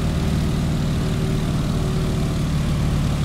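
Steady, loud drone of a Stearman biplane's propeller engine in Microsoft Flight, held at cruise throttle of 85% with 22 inches of manifold pressure and the propeller at 1900 RPM. It runs continuous and unbroken throughout.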